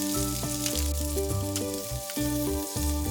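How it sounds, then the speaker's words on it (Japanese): Chikuwa fish-cake rolls wrapped in meat sizzle steadily in a frying pan as seasoning coats them during bento cooking, a soft continuous crackle running beneath louder background music. "ちくわの肉巻きに調味料を絡めます。"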